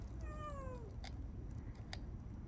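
A pet cat gives a single drawn-out meow close by, followed by a few faint clicks against a quiet, low background hum.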